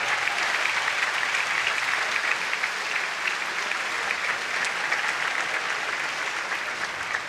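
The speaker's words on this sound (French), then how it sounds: "Vous pouvez les applaudir encore, Charlotte Lutz, Flavien Coton." Audience at a French championship final applauds the new champions Charlotte Lutz and Flavien Coton, a thick, sustained roar of clapping from many hands that stays level throughout, without speech.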